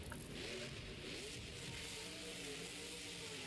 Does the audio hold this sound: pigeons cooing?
no